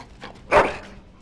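A dog in the video game Dragon Age: Origins gives a single short whimpering yelp, close and clear over a quiet background.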